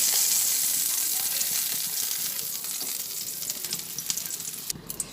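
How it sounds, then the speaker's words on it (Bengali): Bitter gourd pieces fry in oil in a wok, giving a steady, close hissing sizzle that eases slightly over time, with a few soft clicks and pops near the end. "ভেজে নেব উচ্ছে কিছুটা ভাজা হয়ে গেছে"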